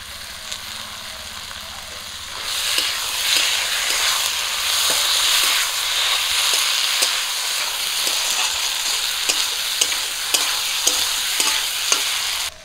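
Pumpkin pieces frying with ginger, cumin and garlic paste in a hot pan, a loud steady sizzle that swells after a quieter start, broken by frequent scraping stirs of a spatula.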